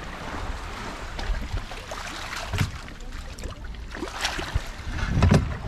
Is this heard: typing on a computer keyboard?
no